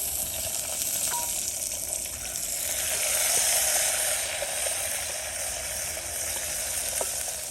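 Eggplant frying in oil in a pan with garlic, coriander and tomato, a steady, moderately loud hiss of sizzling that swells slightly midway, with a few faint clicks of stirring.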